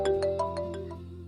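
A phone ringtone plays, a repeating melodic electronic tone pulsing about five times in quick succession, fairly loud and close, with no voices over it.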